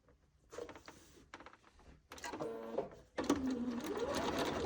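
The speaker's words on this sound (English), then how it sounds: "I have to make sure I sew the long blue side in first." A sewing machine stitching pieces of a quilt block together, running in short bursts at first and then in a steady, continuous whir, close up with no talking.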